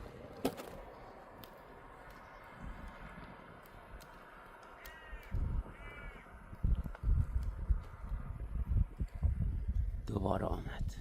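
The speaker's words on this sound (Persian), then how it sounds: "دقت کنید چقدر کلاغ اومد بالا سرش." Crows caw repeatedly around a wounded falcon outdoors, harsh calls at varying distances, some close and loud, heard under someone talking throughout.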